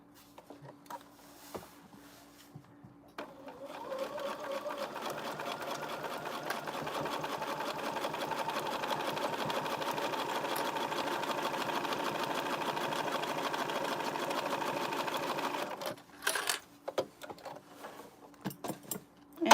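A sewing machine top-stitches a zipper pencil case, its needle chattering in a steady rapid run for about twelve seconds before stopping, followed by a few clicks and handling noises.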